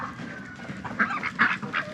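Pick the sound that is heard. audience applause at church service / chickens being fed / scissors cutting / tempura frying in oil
chickens being fed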